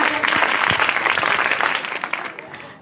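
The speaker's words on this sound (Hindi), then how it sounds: "जरा जोरदार तालियां।" Applause from a group at a college NSS camp gathering, fairly loud clapping that tapers toward the end, with a few sharper claps standing out.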